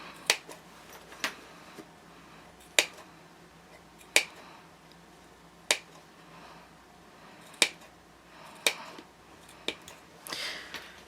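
Sharp scissors clip into the seam allowance of a sewn fabric dumpling pouch, about eight crisp, separate snips spaced a second or so apart, close and fairly quiet with no voices.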